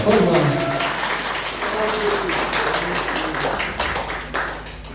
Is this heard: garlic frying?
no